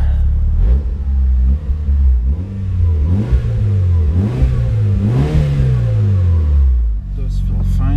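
A Mitsubishi Lancer Evolution 6 Tommi Makinen Edition engine hums steadily and loudly from inside the car while driving, rising and falling through several revs, with a steady low rumble underneath.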